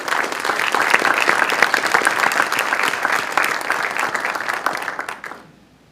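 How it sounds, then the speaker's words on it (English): Dense, sustained audience applause at a Chicano Studies symposium honoring the afternoon speakers, loud and full for about five seconds before quickly fading out. "Please, everyone, join me in another round of applause for our afternoon speakers."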